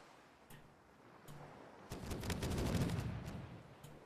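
Rapid bursts of gunfire in the video game Caribbean!, a few scattered shots first, then a dense, sustained volley of many overlapping shots, moderately loud and continuous, tapering near the end.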